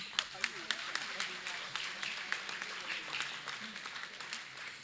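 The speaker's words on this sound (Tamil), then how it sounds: "கை தட்டலாமே" Audience applause at a Tamil poetry event as a memento is presented to a poet: scattered, fairly faint clapping with distinct individual claps standing out, over a low murmur of voices.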